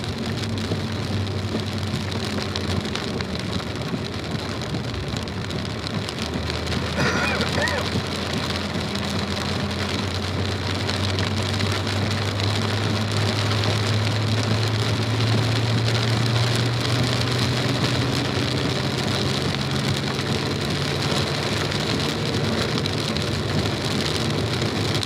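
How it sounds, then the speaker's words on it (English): Heavy rain pours down on a 2017 Corvette Z06 at Circuit Mont-Tremblant, with a steady hiss of water over the engine droning and shifting in pitch as the car laps the track. "It's raining harder at this end of the track."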